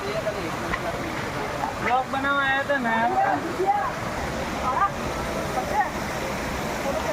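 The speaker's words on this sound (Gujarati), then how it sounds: "આ જબરજસ્ત વોટરફોલ તમને બતાવીશું" A steady roar of falling water at Khuniya Mahadev waterfall in the Pavagadh forest fills the scene, with people talking over it throughout.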